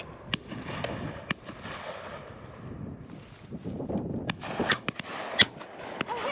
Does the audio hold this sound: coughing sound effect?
no